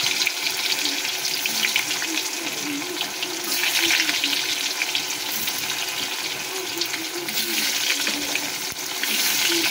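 Spiced pointed gourd pieces frying in hot oil give a loud, steady, dense sizzle with crackling that runs throughout, with no talk.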